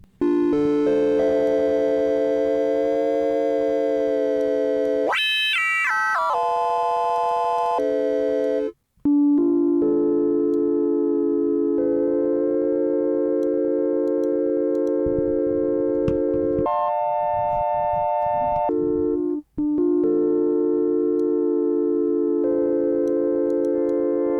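Sustained tones from the Ableton Live 12 MELD synthesizer with a thick, slightly wavering detuned character, shifting through several held notes and a quick pitch sweep, with two short gaps of silence.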